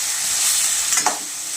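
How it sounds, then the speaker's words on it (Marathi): Spice masala roasting in hot oil gives a steady bright sizzle, with a brief stir or scrape near the end, close and constant, no voices. "तेलात व्यवस्थित भाजून घ्यायचे"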